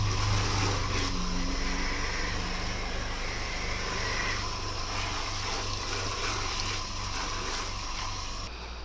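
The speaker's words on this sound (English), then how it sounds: "Give them a good wash, guys. My chard, this is the Vulcan chard." Vulcan chard leaves being washed, with a steady, loud rush of running water gushing continuously throughout, close up and without talk.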